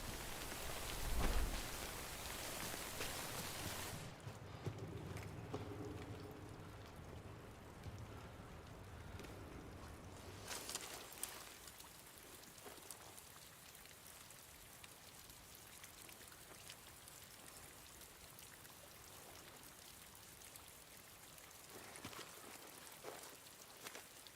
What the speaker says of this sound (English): Wait out the rain over there.